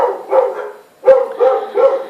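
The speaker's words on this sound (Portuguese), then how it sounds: "meu cachorro não para de latir" A pet dog barks repeatedly at close range, loud and insistent, in two groups of yappy barks with a brief pause between them.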